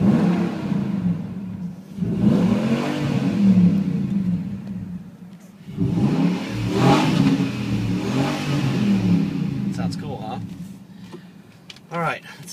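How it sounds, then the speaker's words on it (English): A truck engine revs in deep, rumbling surges through the exhaust, two long pulls rising and falling, loud and near, with some talk underneath. "I'm going to roll the window down so you can hear this exhaust for a second."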